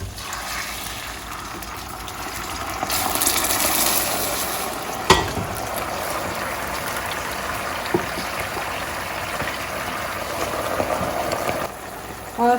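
Meat hits hot onion oil for Sindhi biryani, raising a steady close sizzle and hiss with occasional sharp clinks and stirring scrapes, no talking.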